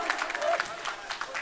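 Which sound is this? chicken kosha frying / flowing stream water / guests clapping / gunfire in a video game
guests clapping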